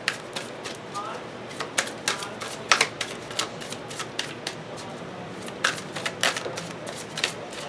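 Tarot cards riffle and snap in repeated quick bursts, a crisp papery flutter close by, steady throughout with brief pauses between shuffles.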